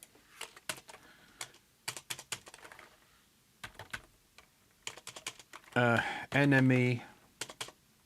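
Bursts of fast clicking on a computer keyboard in short irregular runs, close and crisp, during live programming on an Acorn Atom, with a person speaking briefly near the end.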